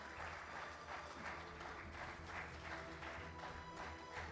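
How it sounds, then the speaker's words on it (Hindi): Audience applause at a stage event: continuous, even clapping from a crowd, soft and steady, lasting the whole stretch. "और तालियां हो जाए इसके लिए।"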